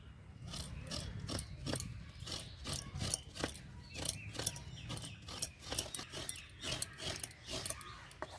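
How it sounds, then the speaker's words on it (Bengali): A coconut is grated by hand, heard as a series of sharp, rhythmic scraping strokes close by, irregular in loudness over a quiet kitchen background. "নারকেলটা কুড়িয়ে নেবো"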